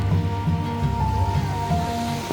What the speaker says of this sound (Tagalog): Umuulan po mga kajadi.